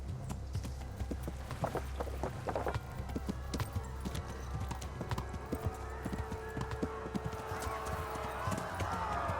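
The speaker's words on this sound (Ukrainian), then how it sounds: "Наш же парубок пришпорив коня і чимдуж помчався до ровна" Horse galloping in the medieval video game Kingdom Come: Deliverance, with quick, steady hoofbeats pounding continuously at moderate volume.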